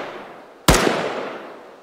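A single sharp gunshot in the video game Arma 3 DayZ cracks out of quiet background noise, followed by a long fading echo.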